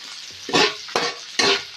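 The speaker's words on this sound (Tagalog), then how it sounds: "Igisa na rin natin ang bawang" Garlic, onion and ginger sautéing in a pan for a ridged gourd dish with misua and dried shrimp, with three loud bursts of sizzling as the pieces are stirred and tossed, close and with no talking.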